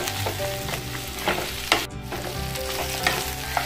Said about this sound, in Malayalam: ഈ ഒരു മസാലയിൽ നല്ലോണം ഈ ഒരു ചിക്കൻ അങ്ങാട് നമുക്ക് യോജിപ്പിക്കാം.